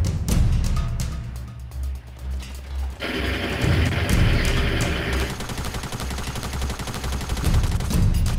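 Rapid gunfire in a Fortnite 50v50 match, bursts of shots cracking repeatedly over a dense, busy game soundscape, with a shift to heavier continuous firing partway through.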